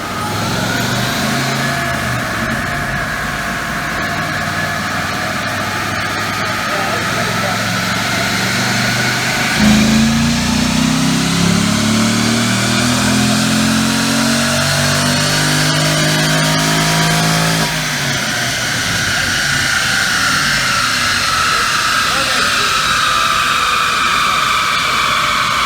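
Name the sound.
2006 Pontiac GTO engine revving on a dyno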